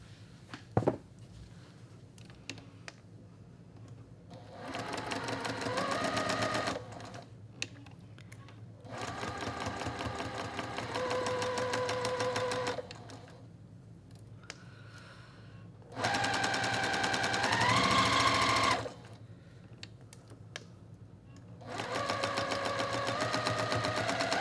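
A sewing machine stitches a quilt block in several bursts of steady rapid whirring, each a few seconds long, separated by pauses with faint handling noise, close and clear.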